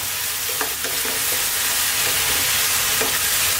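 Beans go into a hot wok with mushrooms and peppers, stir-frying on very high heat, giving a loud steady sizzle with a few scraping stirs of the spatula close by, no talk.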